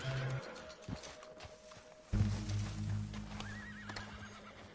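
Horse whinnies and clip-clopping hooves in the Red Dead Redemption video game, a loud neigh over hoofbeats with a game soundtrack behind.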